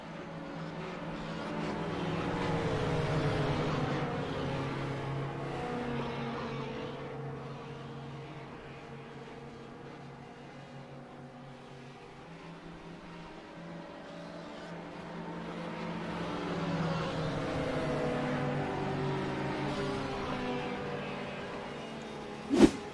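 Race cars, including an Outcast SR8, run laps around the Monza circuit on a partly cloudy evening, a continuous engine roar swelling and fading as cars pass, with a short sharp burst at the very end.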